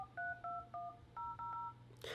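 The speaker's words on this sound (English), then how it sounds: "I can dial" Touch-tone keypad beeps on an HTC One phone, about eight short dual-tone presses in quick succession while dialing a test number, clean and fairly quiet, ending with a brief burst of noise.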